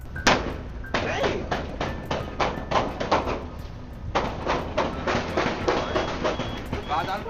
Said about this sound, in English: you will hear the multiple gunshots that were being fired by at least 3 weapons